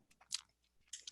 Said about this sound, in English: I'm chewing it.